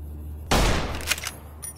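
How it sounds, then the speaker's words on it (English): A single loud gunshot in modded Fallout: New Vegas, a sharp blast with a decaying tail followed by a couple of fainter cracks. "That was such a bad shot."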